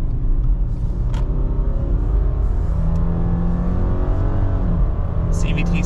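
A 2023 Subaru Forester base model with a CVT accelerates from inside the cabin, its engine droning loudly and rising in pitch with a noticeable shift partway through, a steady heavy rumble throughout.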